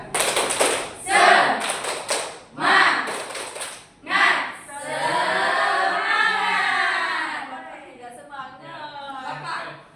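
A classroom group performs rhythmic spirit clapping, giving several loud bursts of claps in a pattern, followed by the group chanting in unison.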